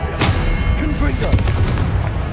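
Confringo blasting spells fired in the video game Hogwarts Legacy, a run of booming fiery impacts and bursts layered over a loud, busy combat mix.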